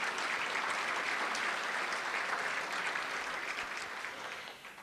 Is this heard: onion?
no